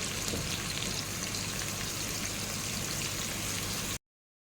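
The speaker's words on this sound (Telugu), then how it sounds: "ఆయిల్ అయితే వేడైందండి. ఇప్పుడు ఆనియన్ వేస్తున్నాను, కట్ చేసి పెట్టుకున్నాను ఆనియన్. దీన్ని బాగా ఫ్రై చేసుకోవాలి" Chopped onions fry in hot oil for a salted fish and black-eyed pea rice, a dense, steady crackling hiss heard close up that cuts off abruptly.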